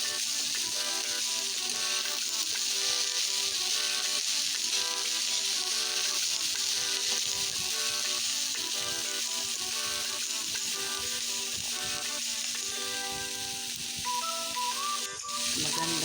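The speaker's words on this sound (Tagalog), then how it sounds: "Ginisa ko lang ng bawang sibuyas guys" Garlic and onion sauté in a hot pan for a Filipino vegetable dish, giving a steady, loud sizzle that runs close and unbroken throughout, with no talking over it.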